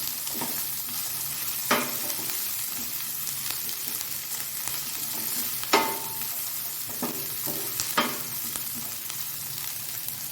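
Onions and green chillies sizzle steadily in a hot pan for egg masala, with a few sharp spatula scrapes and taps against the pan as they are stirred, close up with no talking.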